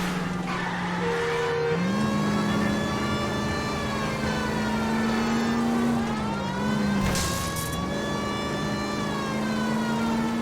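A car engine drones and shifts pitch through gear changes during a video game chase after a stolen green Kaiser Frazer in L.A. Noire, loud and steady with a brief siren-like whine, no talking.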